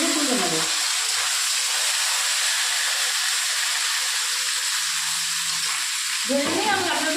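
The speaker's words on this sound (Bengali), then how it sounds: "এভাবে তেল গরম হয়ে গেছে, এবার মাছগুলোকে দিয়ে আমি হালকা করে ভেজে তুলে নেব।" Small tengra fish frying in hot oil in a pan for a Bengali curry, a steady loud sizzling hiss throughout with a sharper crackle burst at the start and end, with no talking.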